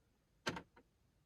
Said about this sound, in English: Okay, the deadlock works.